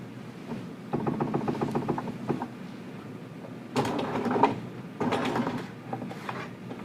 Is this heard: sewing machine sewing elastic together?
yes